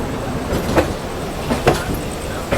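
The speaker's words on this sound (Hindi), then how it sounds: "मेमू ट्रेन है ये, ठीक है, दिख गई मेमू ट्रेन" A MEMU train rolls slowly along the tracks, with soft rumbling and a few spaced metallic clanks and wheel clicks, moderately close, with faint background noise.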